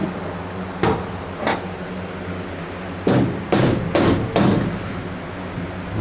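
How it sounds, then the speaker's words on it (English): A rubber mallet strikes a car part during an automotive restoration, tapping parts into line near a horn and cork gaskets: about six dull, close knocks, two spaced single hits followed by a quicker cluster of four, with no talk. "Hit right on the end with my rubber mallet."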